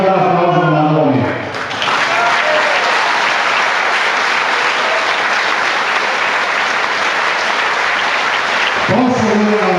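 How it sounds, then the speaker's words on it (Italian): Crowd applause at a Lega Nord provincial party festival in Treviso, a dense, loud wall of clapping that swells in after a speaker's voice and holds steady for about seven seconds before the speaker resumes talking over its tail. "Faremo un bel applauso a Massaroni."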